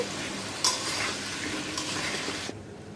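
Potatoes frying in a pan with salt and turmeric, a steady hissing sizzle close by, a brief sharp clatter near the start and another stir midway, ending in a sudden quieter stretch.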